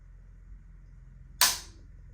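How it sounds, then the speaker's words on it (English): Dry firing of a bolt-action rifle trigger, Browning X-Bolt versus Tikka: a single sharp, close metallic snap standing out against a quiet low hum. "I'm only supposed to dry fire them 3 times, but this trigger is just,"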